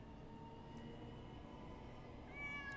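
A cat gives a single short, faint meow near the end, in a Demon Slayer anime episode, over a steady low rumble resembling a moving train.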